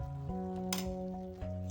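Ground masala with onion, cumin, fennel, mint and coriander is mixed in a pan: one brief scrape of a spoon over a faint sizzle and a steady low hum, with no voices.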